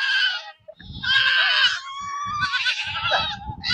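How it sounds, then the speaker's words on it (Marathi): Several goats bleat close by, one loud wavering call after another with hardly a pause and no voices among them. "शेळ्या मिळाल्या वाटत."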